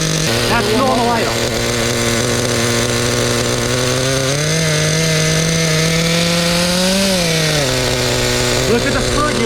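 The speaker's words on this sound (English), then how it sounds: "That's normal idle." A 1/5-scale Thunder Tiger nitro RC motorcycle engine idles richly and loudly close up, a steady buzzing drone that rises briefly in pitch midway before settling back, with a faint voice in the background.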